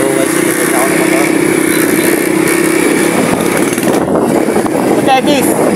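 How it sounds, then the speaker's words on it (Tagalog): Motorcycle engine hums steadily while riding on a road, a constant droning note under continuous wind rush, with someone talking over it. "nagdadrive ako ng motor"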